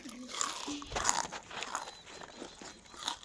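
Crisp crunching of someone biting and chewing onion-flavoured wafers, heard beneath ongoing conversation.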